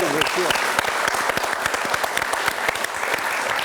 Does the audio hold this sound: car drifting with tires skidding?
no